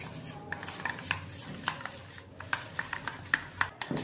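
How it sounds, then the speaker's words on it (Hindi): Paneer and sweet corn with salt are mixed in a bowl, a spoon clinking and scraping against the sides in a steady run of light, close taps with no talking. "अब हमें इसे अच्छे से मिला लेना है।"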